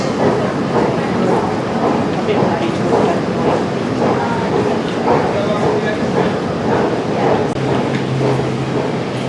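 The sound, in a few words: train arriving at a London station platform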